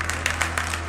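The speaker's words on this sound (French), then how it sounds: "Bravo, on peut l'applaudir." Soft applause from a small crowd, a patter of scattered hand claps over a low steady hum.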